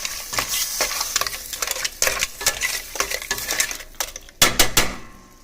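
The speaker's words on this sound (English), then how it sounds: "Give it a stir." A spoon stirs pasta and clam sauce in a metal pan, sending repeated loud clinks and scrapes in an uneven rhythm over a soft sizzle, with a sharp burst of clatter near the end and no talking.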